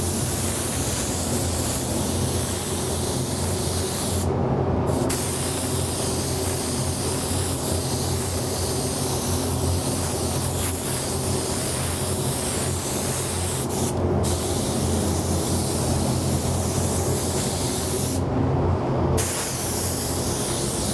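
A spray gun lays a medium wet coat of clear over a slightly blue-tinted finish in a spray booth, giving a steady loud hiss that runs continuously with a few brief breaks where the trigger lets off.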